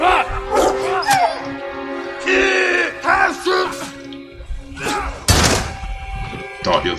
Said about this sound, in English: Let's see if we can set the dogs on it.